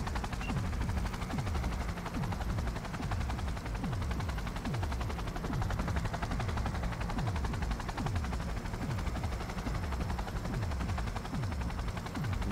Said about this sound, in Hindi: या तो हेलीकॉप्टर किसी बिल्डिंग में उतरेगा शायद।